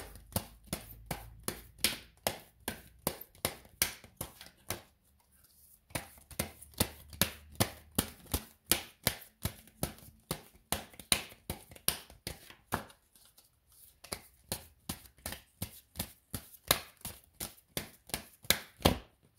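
Tarot cards being handled and drawn, a long run of sharp, close clicks and snaps from cards tapped and flicked, in uneven bursts with two brief quiet gaps.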